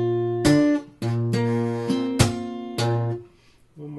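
Acoustic guitar playing measure 17 of a song: a handful of ringing plucked notes and chords in a slow, uneven rhythm, close and clear, each decaying before the next, with no voices.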